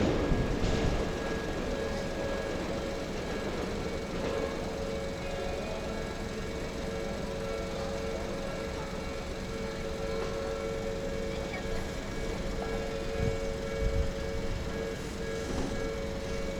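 Loud train rumbling past in Japan, a steady broad roar with some tonal hum, continuous and close throughout with no clear start or end.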